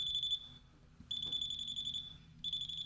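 A moisture meter testing a wet oriental rug beeps a shrill electronic tone in three long pulses separated by short gaps, loud and close against a low background hum.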